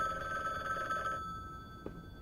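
A telephone rings in the video game The Book Walker: Thief of Tales, a steady trilling bell that cuts off after about a second, leaving a quiet hum and a single soft click.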